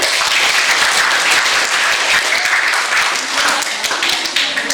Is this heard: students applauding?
yes